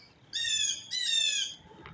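A bird gives two loud, harsh squawking calls in quick succession, each about half a second long, close to the microphone over faint background noise, followed by a softer brief chirp.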